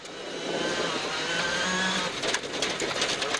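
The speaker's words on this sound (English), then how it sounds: "Here comes Sebastian Loeb arriving at the scene of the accident." A Sébastien Loeb rally car pulls up on a gravel stage of Rally Australia, its engine a close, steady roar that eases off near the end as it slows.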